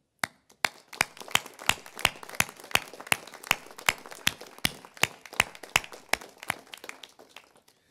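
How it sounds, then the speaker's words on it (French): Sparse, individually distinct hand claps from a small group at a formal New Year's greeting ceremony, sharp and close, building into a brisk uneven rhythm before thinning out one clap at a time. "Je vous propose de les applaudir."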